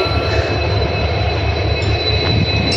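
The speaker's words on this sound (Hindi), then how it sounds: "प्लेटफॉर्म नंबर 3 पर हमारी ट्रेन आई।" Passenger train pulling into a platform at Veraval Junction, India: a steady, loud low rumble of wheels and rolling carriages with a faint high tonal whine running throughout, no voices.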